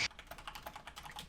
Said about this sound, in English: Hear the angry clicking of the mechanical keyboard.